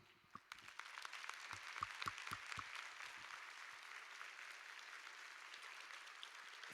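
An audience applauds the extended Linkage team at a conference closing session, a dense, steady wash of clapping with sharp individual claps standing out near the start, continuing evenly throughout.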